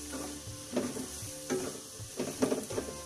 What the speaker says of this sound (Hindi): ये सूजी मैं ऐड करती हूँ इसमें।